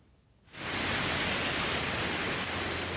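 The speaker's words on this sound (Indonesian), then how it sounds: "hujan lebat turun di Ilan semalam suntuk, menyebabkan banjir parah di perkotaan dan stasiun kereta api" Heavy rain in Yilan, a sudden onset of dense, loud hiss after a brief quiet moment, then steady and unbroken downpour without voices.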